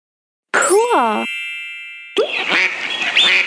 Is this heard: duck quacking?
yes